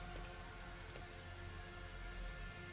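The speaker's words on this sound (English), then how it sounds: "Oh, crawling in the rain." Steady rain from the video game Master Detective Archives: Rain Code, a soft, continuous hiss of drops falling on a surface, faint and even throughout with no talking.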